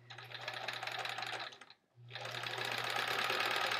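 A home sewing machine runs fast and close while stitching quilt half-square triangles, with a steady whirring clatter, a brief pause near the middle, then another continuous run.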